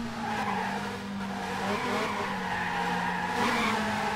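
A race car braking hard and skidding in the Dreamcast racing game F355 Challenge, a steady close tire squeal over engine drone lasting several seconds, with no talking.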